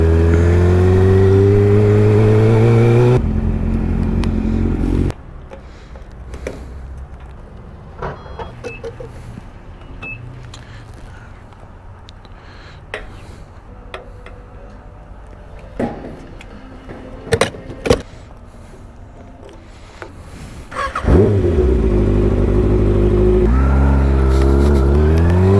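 A Kawasaki Ninja ZX-6R motorcycle engine revs loudly with rising pitch, then drops to a quiet stretch of faint ambient noise before roaring back with another strong acceleration near the end.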